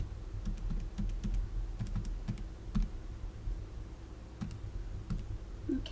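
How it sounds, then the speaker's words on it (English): Numbers tapped into a calculator, a quiet series of soft irregular button clicks and taps, close by with faint background hum. "So if I tippy type this into my calculator,"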